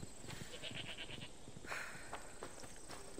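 Goats bleat in quick repeated cries in Assassin's Creed Odyssey over a soft background, with a few light steps and thuds mixed in.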